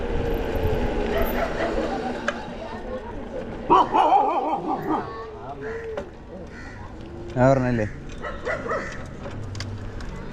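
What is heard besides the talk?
dogs barking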